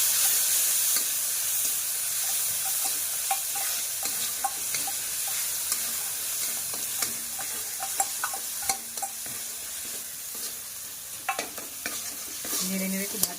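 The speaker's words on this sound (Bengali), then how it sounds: "নাড়ো নাড়ো নাড়তে হবে।" Ginger-chilli paste stirred and fried in a hot wok, a steady sizzle with frequent scraping and clinking of a spoon against the metal, close and continuous.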